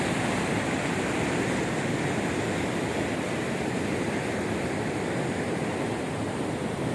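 Mountain stream water at Baltal near Sonamarg rushes in a steady, loud, unbroken roar with no voices over it.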